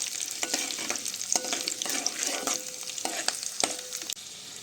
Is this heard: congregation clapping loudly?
no